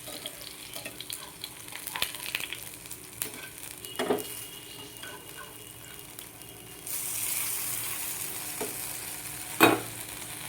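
Lentil, potato and cabbage bara fritters frying in hot oil, a steady close sizzle with scattered pops and a louder, denser crackle in the second half.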